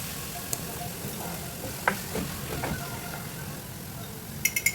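Onions and meat sautéing in a pan for Lebanese baked pasta, giving a soft, steady sizzle throughout with a few faint clicks and stirring knocks, fairly quiet overall.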